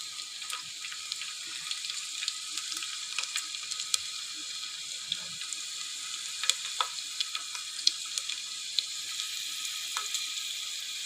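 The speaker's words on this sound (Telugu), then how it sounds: "వెల్లిపాయ వేగుతుంటే 2 పచ్చిమిర్చి, కొంచెం ఆవాలు," Garlic, green chilies and mustard seeds frying in hot oil for dosakaya sambar, giving a continuous bright sizzle with frequent small pops and crackles, close and fairly quiet, with no talk.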